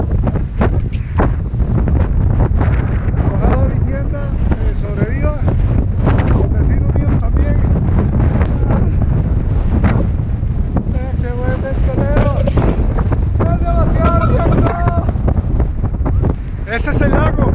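Strong wind buffets the microphone at a lakeside campsite, roaring continuously with gusty rumbles, while a person talks over it.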